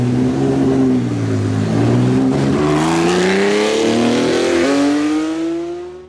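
Porsche 904 GTS, an early-1960s racing car, revving hard with its engine pitch climbing steadily through the gears, loud and close, alone without voices, fading at the end.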